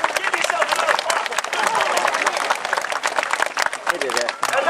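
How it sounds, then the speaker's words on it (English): Audience at a sea lion show in a theme park claps and cheers steadily and loudly throughout, dense crowd applause with voices mixed in. "Give yourself another clap."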